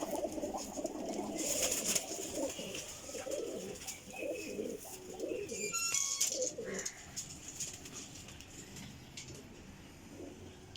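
Teddy high-flying pigeons, a champion long-flight breed, coo nearby in soft repeated throaty calls, with some light chirps over a continuous rustling background.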